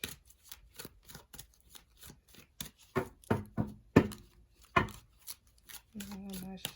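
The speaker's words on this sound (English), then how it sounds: "I shuffle and then I'll cut." Someone shuffles an Unshakable Inner Peace card deck up close, quick soft riffling and sliding taps that build into louder flicks, with a brief voice near the end.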